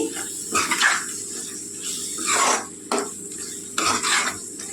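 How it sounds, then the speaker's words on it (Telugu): Masala fries in a pan for a gongura prawn curry, with a spoon scraping and stirring in repeated bursts over a soft, constant sizzle, close up and without talk. "మసాలా వేసి బాగా వేపుకోవాలండి"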